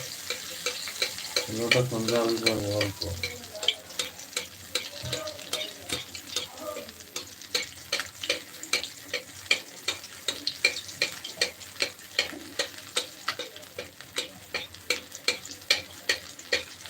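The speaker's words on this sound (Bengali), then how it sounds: "মাছ ফ্রাই হবে দ্রুত ঠিক আছে" Fish frying in a pan in a home kitchen, with a steady close sizzle and regular clinks and taps of a utensil stirring and turning the pieces, briefly under a low voice near the start.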